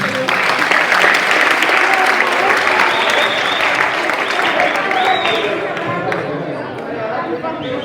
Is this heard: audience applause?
yes